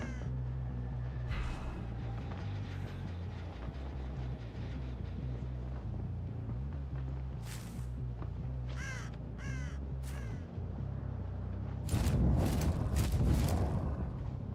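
Crows caw in short repeated bursts in Dead by Daylight, standing out over a steady low game ambience hum, with a louder noisy swell near the end.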